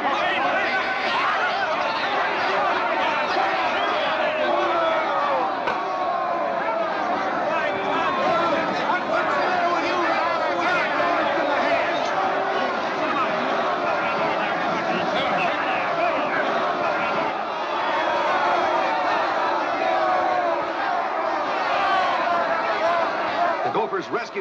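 A dense, continuous crowd roars and chatters at a baseball game in 1950 after a forfeit, with an angry Gophers mob swelling and holding loud from start to finish, layered voices blending into one steady din.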